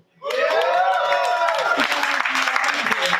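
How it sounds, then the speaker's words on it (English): Audience applause at an open mic and faculty night, a dense wash of clapping filling the room for Willow, with cheering voices and a whoop over it, steady and loud throughout. "Let's give a round of applause for Willow."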